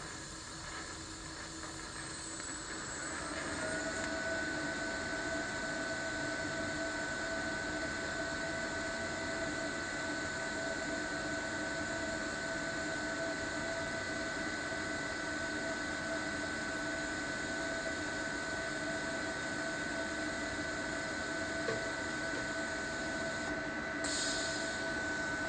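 A TIG welder arc melts copper on a copper plate, giving a steady, loud hiss and buzz that starts softer and swells after a few seconds, with a constant high whine running throughout.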